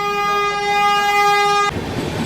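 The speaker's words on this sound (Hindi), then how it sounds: "शानदार एक क्रॉसिंग आ रही है किसी ट्रेन की कर्व पे" A passing train's horn sounds in one long, steady, loud blast at a railway crossing on a curve, cutting off abruptly into rushing track and wheel noise.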